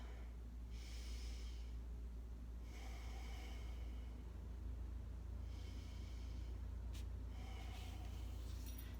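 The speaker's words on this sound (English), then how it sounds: "Take deep inhales and exhales." Deep yoga breathing in a quiet room, with four slow, long breaths spaced evenly, each an airy rush that is close but soft over a low steady hum.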